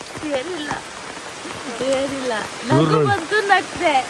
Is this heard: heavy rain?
yes